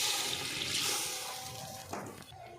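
A steady rush of water gushes into a pot for coconut rice, loud and continuous, then tapers off and stops near the end.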